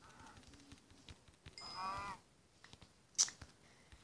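A cow in the Minecraft Pocket Edition video game moos once in a short, tonal call, faint and alone against a quiet game background.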